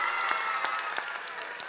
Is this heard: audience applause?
yes